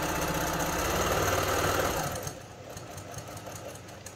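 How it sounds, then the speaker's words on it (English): Sewing machine running a straight stitch close to the edge of a cloth gusher pad, a loud rapid mechanical whir for about two seconds that stops abruptly, leaving quiet room noise. "This is just a straight stitch. So you want to keep it close to the edge"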